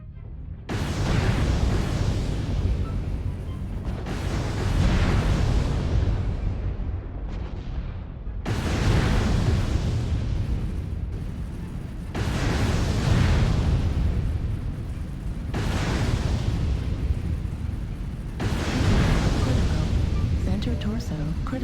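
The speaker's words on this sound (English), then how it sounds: "Artillery strike online. Artillery strike activated." Artillery strike explosions in MechWarrior Online pound the Liao Jungle, heavy booming blasts rolling one into the next in a loud, nearly continuous barrage of about six waves.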